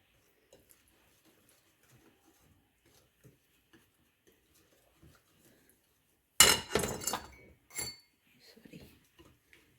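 Sweet and sour sauce mixture stirred in a bowl for Korean sweet and sour chicken, giving a brief burst of clinking and scraping about two-thirds of the way through after near silence, then a few softer clinks.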